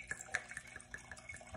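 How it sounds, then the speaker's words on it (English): Apothic Cabernet red wine poured slowly from the bottle into a glass, a faint close trickle with small splashy drips and gurgles, no talk. "I just need to serve myself a nice slow pour of this Apothic Cab."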